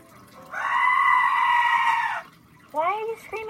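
A goat screams in one long loud bleat, then gives two shorter wavering cries after a brief pause.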